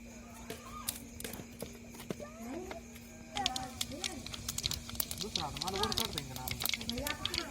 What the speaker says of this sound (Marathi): बघा जिरे मोहरी चांगली तडतडली